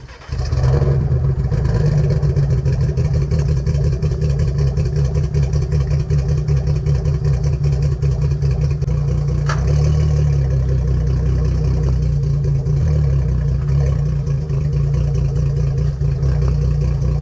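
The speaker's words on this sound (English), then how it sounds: "we got the power head back onto the engine here on the midsection. We got it started up." A rebuilt outboard engine, its power head just refitted to the midsection, starts and runs steadily, a loud continuous engine drone with low throbbing and slight variations in pitch.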